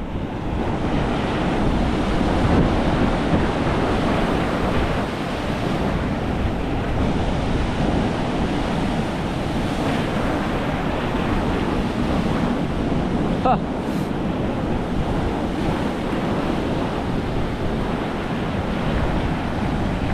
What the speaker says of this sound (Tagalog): Tingnan nyo, galit na galit yung alon.